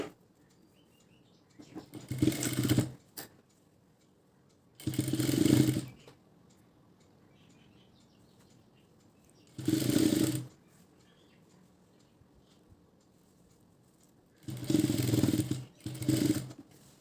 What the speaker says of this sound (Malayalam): ഇനി നമുക്ക് ഇതിങ്ങനെ വെച്ച് പതിച്ചടിച്ചു കൊടുക്കാവുന്നതാണ് ഈ അരികത്തൂടെ.